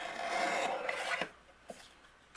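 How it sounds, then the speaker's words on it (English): A paper trimmer slices a border off the bottom of a card, giving a close, steady rasping cut for about a second, followed by a few faint clicks and taps. "And let's trim that border off of the bottom."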